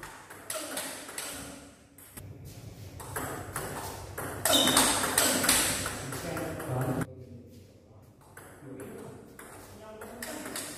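Table tennis ball struck with an Andro Timber 7 Offensive S all-wood blade while playing loaded spin balls, sharp pings repeating at an irregular rally pace over moderate room noise, with a voice talking at times.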